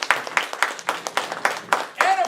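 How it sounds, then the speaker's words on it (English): A small crowd at a community evening event claps for itself. Only a few rhythmic, separate claps come through, mixed with voices and murmur, fairly close and moderately loud. "Please give yourselves a warm round of applause."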